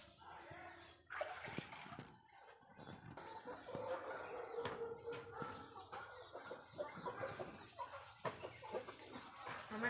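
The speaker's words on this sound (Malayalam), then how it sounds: "നമ്മുടെ കോഴി പിള്ളാസൊക്കെ ഇവിടെയുണ്ട്." Chickens clucking close by in an outdoor yard, with irregular soft clucks and calls scattered through the clip amid faint background noise and a little voice.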